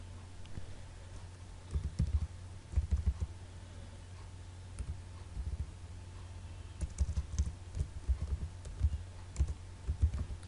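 A computer keyboard clatters in irregular bursts of quick keystrokes, soft and close over a steady low hum, with pauses between runs and no talking.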